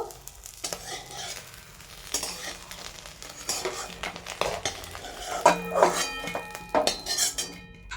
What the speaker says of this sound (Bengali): এবার উল্টে পাল্টে ভেজে নিচ্ছি আমাদের ডিমটাকে